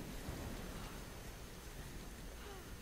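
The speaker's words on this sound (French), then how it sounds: "Ah bah la pluie, elle te lave." Steady rain falls in the Tomb Raider video game, a dense, even hiss of drops with faint low rumbles, continuous and fairly loud with no voices.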